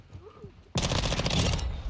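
Rapid automatic gunfire from a gun in a video game, a sudden loud burst of shots that cuts in after a quiet stretch and keeps firing densely to the end.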